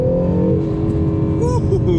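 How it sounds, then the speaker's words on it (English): A 2020 Acura NSX hybrid supercar accelerates hard in its track setting, its turbo wastegates chirping and fluttering over a loud, rising engine roar heard from inside the car while a voice talks. "you can hear the waste gates on this thing"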